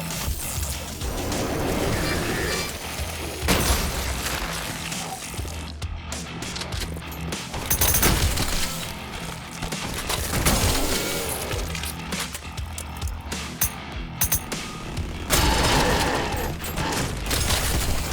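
Turrets firing in the video game Battle Alley, dense sustained bursts of rapid gunfire with crashing impacts and breaking sounds, loud and continuous throughout.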